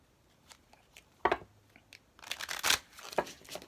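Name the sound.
tarot cards being shuffled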